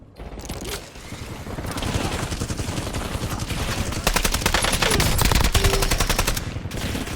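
Video game gunfire rattles in continuous rapid automatic bursts, loud and close, with a denser run of shots in the middle and no talk over it.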